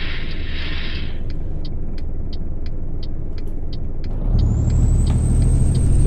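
A heavy truck engine in Euro Truck Simulator 2 rumbles steadily, running empty with no load and pulling away in twelfth gear, with a hiss of air releasing early on and the low drone swelling louder as it gets moving.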